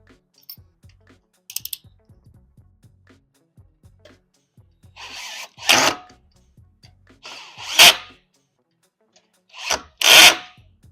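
Bolts tightened on a KEMIMOTO front bumper for a ZForce 800/950 with a power driver, three loud whirring bursts in the second half after light clicks and handling taps, close by with no talking.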